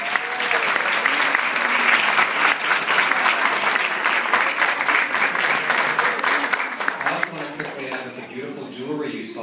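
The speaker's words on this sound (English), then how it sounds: "Let's give him one more round of applause." An audience at a designer fashion evening at Saks Fifth Avenue in Palm Beach claps warmly and continuously for about nine seconds, easing off toward the end, with voices talking over it.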